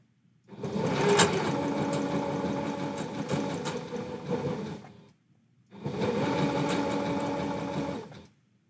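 A sewing machine stitches stretchy fabric lining in two steady runs, a loud continuous whirring hum of about four and a half seconds, a brief pause, then another run of about two and a half seconds.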